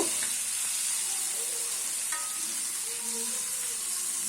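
Fish fries in a pan with a steady, moderately faint sizzle and hiss that continues unbroken throughout.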